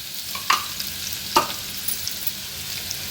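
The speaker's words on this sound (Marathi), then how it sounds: "आलं लसूण क्रश तेलावर छान परतून घ्यायचं आहे म्हणजे गोल्डन कलर येईपर्यंत" Crushed ginger and garlic paste fry in hot oil with a steady close sizzle, broken by two sharper pops or spatula knocks and a few faint crackles, with no one speaking.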